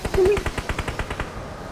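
Automatic gunfire in the battle royale game PUBG on the Erangel map: a loud, rapid burst of about a dozen evenly spaced shots that trails off over under two seconds, with a faint voice underneath.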